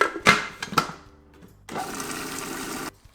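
A blender whizs homemade pesto seasoned with salt and pepper in one steady burst of roughly a second and a half, following a few short knocks and clatters nearby; no talking.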